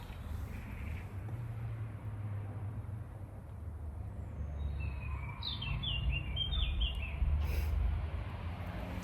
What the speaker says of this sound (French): Je sais pas si vous allez entendre les oiseaux.